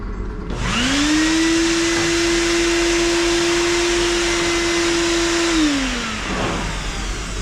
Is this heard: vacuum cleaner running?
yes